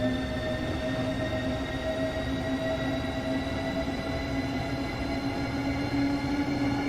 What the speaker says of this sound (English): It sounds better than Train Sim World 2, the Jav sounds. The Javelin sounds.